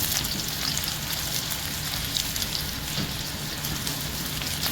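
A steady, dense sizzle of chopped red chillies frying in hot oil, even and unbroken throughout, with no voices.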